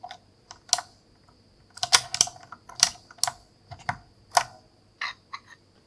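Keycaps pressed back onto a quartz-pink Razer BlackWidow V3 keyboard give crisp close clicks and taps, singly and in quick clusters with short gaps, against a quiet background and no speech.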